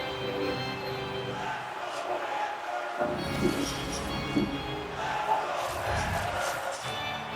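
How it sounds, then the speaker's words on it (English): Hockey arena crowd at a Stanley Cup Final between Florida and Utah, a steady roar of many voices with swelling cheers and yells, broad and reverberant throughout. "As this crowd trying to get pumped up."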